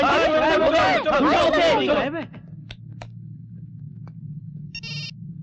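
A telephone rings inside a car on the road, its repeated electronic ringtone cutting in right after an excited group of people talking over one another, then fading to low engine hum with a last short beep.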